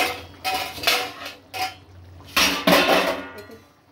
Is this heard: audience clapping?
no